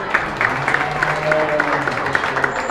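An audience at a county beef show applauds the exhibitors in the ring, a steady patter of clapping lasting a few seconds with murmuring crowd underneath.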